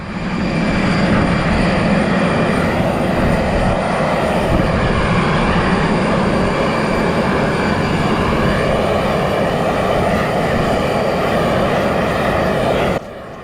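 Large passenger airplane engines roar loud and steady at close range, a continuous broadband drone that holds evenly before dropping off abruptly near the end.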